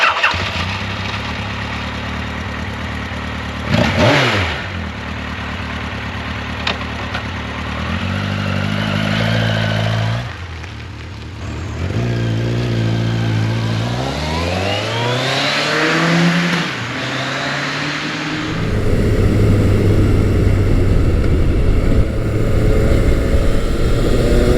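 A 1986 Yamaha FJ1200 motorcycle is ridden on the road, its engine close and loud. It revs and climbs through the gears in repeated rising sweeps, with brief drops between shifts, and wind noise builds toward the end.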